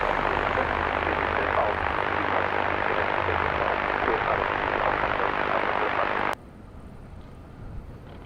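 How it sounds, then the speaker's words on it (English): Airliner on approach to Madeira Island Airport in windy conditions, a broad roaring jet rush holding steady and loud for about six seconds before cutting off abruptly to quiet background. "Ryanair on the approach from Stansted"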